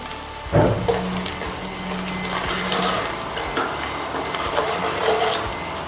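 Spice masala roasting in a pan with black pepper added, giving a steady close sizzle with scraping stirs and occasional clinks of a utensil against the pan throughout.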